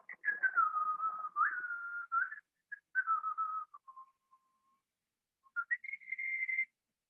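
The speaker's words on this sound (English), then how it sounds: "yes, I whistle, guys" A person whistles a wavering tune in several bursts with short pauses, ending on a long steady held note, clear and fairly close with no talk.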